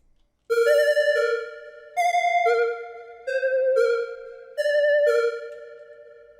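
A bright, layered synth melody of sustained chords and notes, played in several short phrases with brief gaps between them, clean and upfront.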